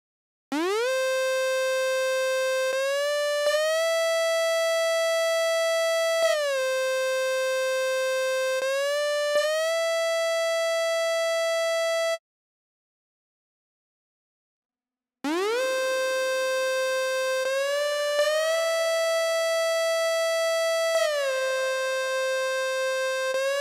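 A bright synth glide lead patch, 'When the Fight Calls', glides up into long sustained notes with a wash of heavy Valhalla reverb, pausing briefly before the gliding line returns.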